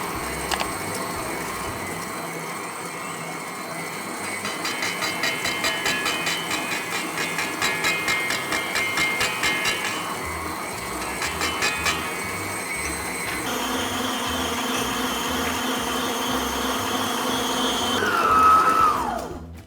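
An electric mixer whisks meringue with sugar, giving a loud, steady motor whir with a rattling, clicking texture that shifts in pitch partway through and rises briefly near the end.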